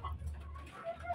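A chicken that is refusing food and has a cold gives a few soft, low clucks close by on a rooftop farm, brief and quiet over a faint background.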